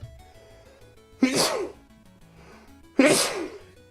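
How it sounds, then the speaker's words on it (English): Two loud, close sneezes about two seconds apart, each a sharp explosive burst that fades quickly, with quiet in between. "I'm gonna sneeze."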